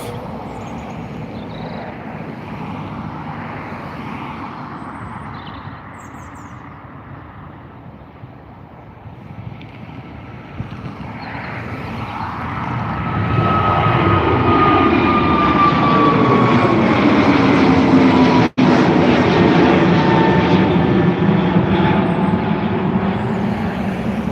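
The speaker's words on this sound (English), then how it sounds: "A321 XLR taking off to Minneapolis" An Aer Lingus A321 XLR airliner takes off from Dublin Airport bound for Minneapolis, its engine roar swelling from a distant rumble to a loud, steady whine and thunder as it climbs, with wind buffeting the microphone.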